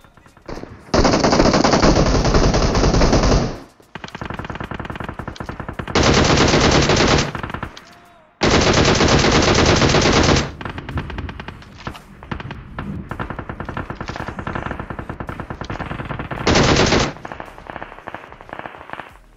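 Automatic rifle fire in PUBG Mobile gameplay on the Erangel map: long, loud, sustained bursts of rapid shots alternate with shorter bursts and quieter stretches of distant shooting, with no talking.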